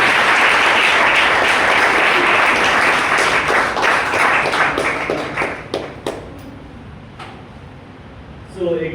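An audience at a sales plan show in Panipat breaks into loud, sustained applause for Ajay Kumar Yadav, the clapping thinning into scattered claps before a voice returns at the end.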